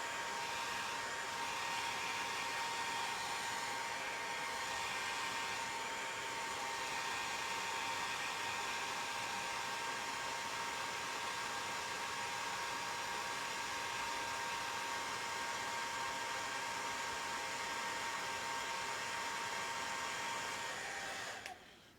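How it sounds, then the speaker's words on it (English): Hair dryer blowing steadily at close range to dry paint on the base rim of a miniature, one continuous broadband whoosh for over twenty seconds that cuts off abruptly at the end. "I've used a blow dryer, may as well keep going with it"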